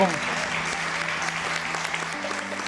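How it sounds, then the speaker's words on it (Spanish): Church congregation applauding during a Spanish-language worship service, a steady mass of clapping with sustained tones beneath, likely music. "Dale un fuerte aplauso a tu Dios y tu Salvador."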